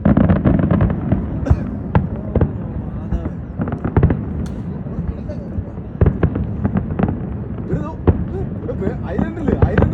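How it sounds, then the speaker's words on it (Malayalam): New Year fireworks explode over Dubai near the Burj Khalifa, a dense barrage of booms and crackling pops in quick irregular succession, loud and continuous, with people talking excitedly over them. "ഫ്രെയിമിൽ വെടിക്കട്ടാ."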